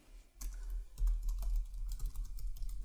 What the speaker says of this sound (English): you can just type that in